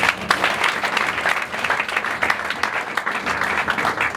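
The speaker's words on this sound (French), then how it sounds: "Est-ce qu'on peut les applaudir encore une fois?" An audience applauds at a 40th anniversary celebration in Espace Kyubo, with dense, steady clapping from a large crowd filling the whole stretch at close range.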